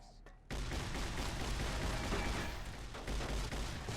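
Shotgun fire and combat in Fallout: New Vegas, Lonesome Road: after a brief quiet start, a dense continuous barrage of blasts and bursts fills the rest of the clip at a loud, steady level.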